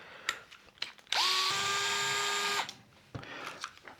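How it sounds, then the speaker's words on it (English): A power driver whirs steadily for about a second and a half, close and loud, backing screws out of the large motor of an Arrma Typhon Grom RC car, with light clicks and handling noises before and after. "Wow, 10 screws you have to take out."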